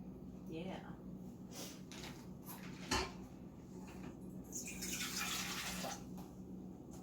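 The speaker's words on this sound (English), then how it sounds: "We have water." Tap water runs into a sink in a home kitchen during doughnut making, a soft steady hiss rising toward the end, with people talking over it and a brief knock partway through.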